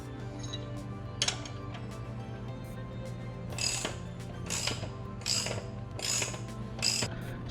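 A ratchet clicks in short bursts while tightening the chain adjuster on a Mega Moto 212 minibike, with a low steady hum underneath and several separate clicking strokes spaced a second or so apart, close by.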